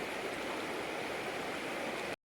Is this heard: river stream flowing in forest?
yes